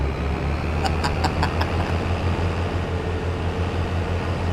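A small tractor engine in Farming Simulator 22 drones at a steady low idle, with a deep rumble running unbroken through the whole stretch and a few faint ticking sounds near the start.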